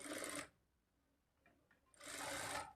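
A sewing machine stitches a lining blouse in two loud, close bursts of rapid whirring separated by a quiet pause of about a second and a half, with no voices.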